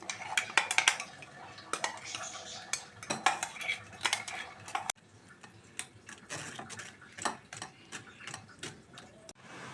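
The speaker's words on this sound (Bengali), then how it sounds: "গ্রেভিটা ছেঁকে নিলাম।" A metal spoon scrapes and clinks against a sieve as paneer gravy paste is pressed through, giving irregular sharp taps and rubbing scrapes close by, with no talk.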